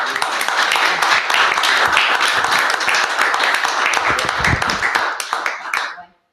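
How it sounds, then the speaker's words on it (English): An audience at an education workshop on computational thinking breaks into brisk, lively applause of many hands clapping. It stays loud for several seconds, then cuts off abruptly. "big applause"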